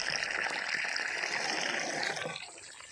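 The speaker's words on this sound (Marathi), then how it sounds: "शेवटी आमच्या नळाला पाणी लागलं म्हणजे लागलं" Water gushes steadily from a village house's tap in a continuous splashing stream that eases slightly toward the end.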